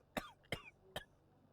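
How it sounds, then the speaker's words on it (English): A severe cough in Sherlock Holmes: The Devil's Daughter: three sharp, harsh bursts in quick succession, close and fairly clear against a quiet background. "You have a severe cough."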